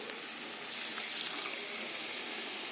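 Rinse water from a mixer-grinder jar poured into a pan of doodh paneer, a steady splashy stream of liquid running for the whole moment at close range with no talk over it.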